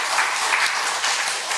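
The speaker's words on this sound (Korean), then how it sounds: "격려의 박수 부탁드리겠습니다" Church congregation applauding in a steady, dense clatter of many hands, fairly close and filling the whole moment without any voices.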